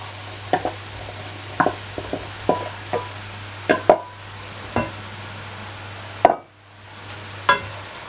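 Roughly 400 grams of potato cut into small chunks drop into a cooking pot for a meat and potato pie, giving a series of sharp clatters and thuds spaced over several seconds, fairly close, with a steady low hum underneath.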